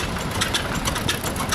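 A 1930 Hart-Parr tractor engine idles at steady close range, giving a continuous low mechanical chug with a faint rhythmic knock and no voices over it.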